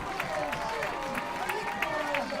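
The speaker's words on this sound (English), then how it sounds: "And the crowd erupts!" Stadium crowd at a soccer match between Sarasota Paradise and Altitude Rush roaring after an 88th-minute equalizing goal, a sustained wash of cheers and applause with excited commentary running over it.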